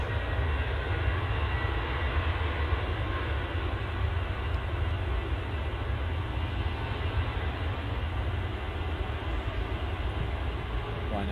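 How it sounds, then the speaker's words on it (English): A Ryanair Boeing 737 rolls down the runway at Manchester Airport as a steady, broad engine roar that stays constant and moderately distant, with no clear talk over it. "Ryanair 737 is rolling."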